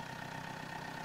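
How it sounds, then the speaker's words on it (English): A farm tractor engine runs close by with a steady, even mechanical drone while the throttle is raised, heard alone for about a second. "I'm going to throttle up the tractor."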